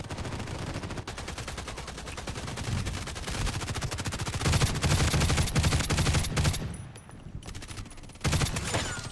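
A G36C rifle in the online shooter Contract Wars fires rapid automatic bursts of sharp, evenly spaced cracks, loud and near, with brief pauses between volleys and no talking.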